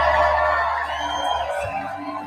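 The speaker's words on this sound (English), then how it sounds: "Crowd's cheering." Crowd cheering and whooping, a loud, sustained roar of many voices with yells rising and falling over about two seconds.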